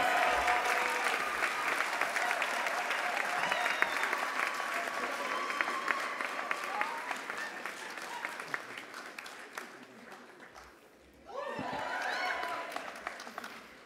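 Sustained applause from a large crowd at the spring 2025 commencement of Minneapolis College of Art and Design (MCAD), dense steady clapping that dips briefly near the end and then surges back, with a voice speaking over it.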